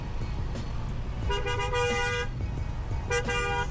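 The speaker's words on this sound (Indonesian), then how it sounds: "Udah tahu macet, masih aja klakson." Car horns honking in a traffic jam, two distinct sustained toots over a steady low rumble of idling motor vehicles, fairly loud and nearby.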